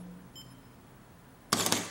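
A quiet stretch with a faint tone, then at the end a sharp mechanical clatter of a camera shutter firing on a 2-second interval timer release, close and loud.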